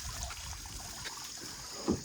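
Water running from an opened tap at an irrigation department tank on a farm, a steady gushing trickle and splash heard close and continuous without speech.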